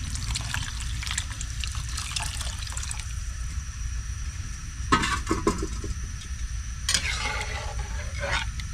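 A pot of food bubbling and simmering on the stove as a thick sour broth cooks, a steady close seething hiss with soft stirring scrapes and a few louder clanks from the pot.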